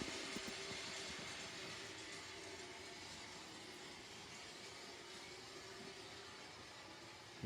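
A tiny model train set runs in a small room, giving a steady, low rolling whir with faint rattle that holds evenly throughout at a quiet level, with no talking.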